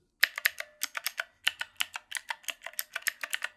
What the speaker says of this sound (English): It has actual mechanical keys on this thing.